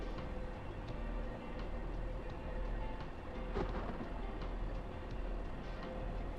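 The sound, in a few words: rain in the video game Train Sim World 4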